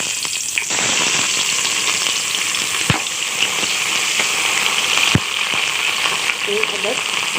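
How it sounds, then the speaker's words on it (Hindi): Whole garam masala spices and onion dropped into very hot oil for a tempering, giving a loud, steady crackling sizzle with a few sharp pops throughout. "इसमें हम साबुत गरम मसाले का और ये प्याज का बघार लगाएंगे"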